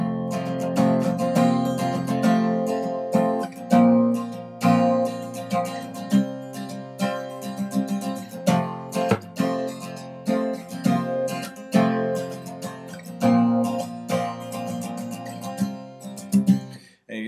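Acoustic guitar plays the strummed intro of the worship song You Are Holy, with a steady rhythmic pattern of bright chord strokes over a full low end, close and alone without voices.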